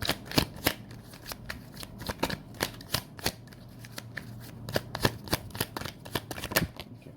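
Tarot cards being shuffled close up, a brisk run of sharp riffling bursts and flicks repeating in an uneven rhythm with no talk.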